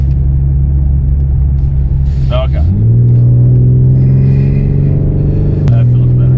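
BMW M4 Competition engine switched into Sport Plus mode, a steady deep rumble and drone that rises in pitch midway and holds, with a person briefly speaking over it.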